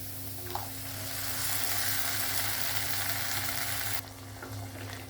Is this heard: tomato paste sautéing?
yes